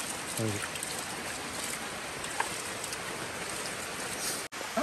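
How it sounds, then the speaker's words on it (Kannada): Steady rain hisses throughout at moderate level, with a brief clatter near the start and a short dropout near the end. "ನೋಡಿ, ಮಳೆ ಬರ್ತಾ ಇದೆ ಇಲ್ಲಿ."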